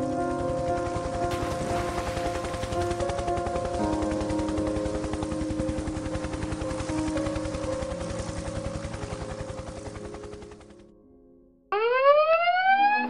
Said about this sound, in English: You get that call, we'll sound our search and rescue alarm.